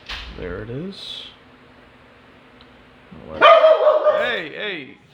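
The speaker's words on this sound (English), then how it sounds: "dog's barking at me" A dog barks nearby in a few sharp, loud bursts at the start and again near the end, mixed with a person talking, with a quieter stretch between.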